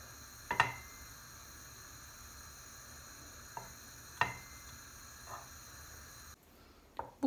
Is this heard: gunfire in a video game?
no